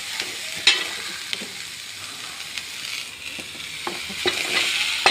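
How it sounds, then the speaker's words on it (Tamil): Cut cherry tomatoes sauté in a pan for a jackfruit seed curry, a steady close sizzle broken by a few sharp scrapes and taps of a spatula against the metal. "அதை போட்டு வதக்கணும் நல்லா"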